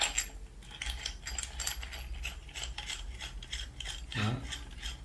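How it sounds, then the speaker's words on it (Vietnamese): Small metal clicks and scraping come from a screw being twisted loose on the stand pole of a solar-powered fan, close up and fairly quiet, over a steady low background hum. "Ở đây nó có con ốc xoáy này, các bác tháo ra."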